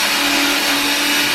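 A torque gun drill runs steadily, driving a pilot hole into the workpiece: a loud, continuous high whir with a hum underneath, lasting the whole moment without pause or any voice.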